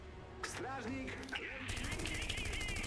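Rapid machine-gun bursts and gunfire from units in the real-time strategy game Iron Harvest 1920+, loud and close, with game sound effects and a voice talking over the shooting.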